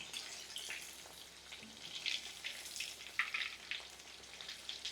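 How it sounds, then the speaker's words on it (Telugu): Chicken pakora pieces fry in hot oil, a steady soft sizzle with crackling bubbles rising and falling, fairly quiet and close, with no one talking. "చికెను ఫ్రై అయిపోయింది బాగా"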